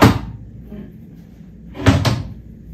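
A drawer in a Manhattan apartment unit slides and knocks twice, a sharp wooden bump at the start and a double thud near the end, close and fairly loud in a quiet room.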